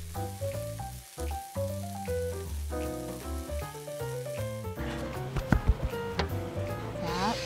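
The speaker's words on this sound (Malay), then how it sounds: "bunyi desiran kuali di dapur juga begitu membangkitkan selera" Frying food hisses and crackles in a wok in a kitchen under steady tonal music, with the sizzle growing brighter and louder toward the end.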